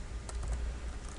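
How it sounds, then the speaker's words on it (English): Rapid typing on a computer keyboard while entering text on a web page, a close, irregular run of light key clicks at steady volume with no voices. "you can just click out of that and just start typing in text and content"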